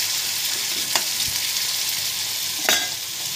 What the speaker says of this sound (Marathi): आता आपण टोमॅटो टाकू. टोमॅटो चांगला आपण मॅश करू.